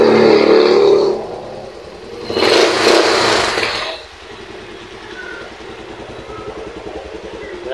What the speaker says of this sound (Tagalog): tumandar na rin yung kanyang motor